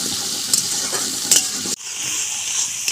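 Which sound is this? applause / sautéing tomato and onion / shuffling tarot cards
sautéing tomato and onion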